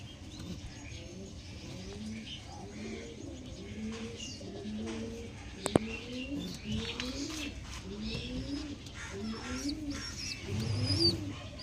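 Punjabi pigeons coo in repeated low, rolling phrases throughout, a steady chorus of several birds close by with a brief sharp knock midway and a slight swell near the end.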